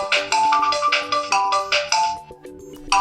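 Ringtone playing from a myPhone Fun 8 mobile phone, a loud bright electronic melody of quick repeating notes and chords, heard alone and close.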